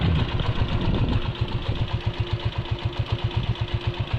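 Motorcycle engines idle and chug with a steady pulsing throb on a road flooded by an overflowing river during a typhoon, close by and continuous, with no talk.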